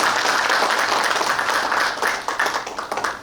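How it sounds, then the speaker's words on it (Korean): Conference audience applauding for a speaker at a forum on founding a teacher-training middle school at Sunchon National University, dense sustained clapping that thins out toward the end. "다시 한번 큰 박수 부탁드리겠습니다"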